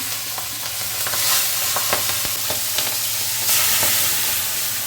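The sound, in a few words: green chillies sizzling in hot oil tempering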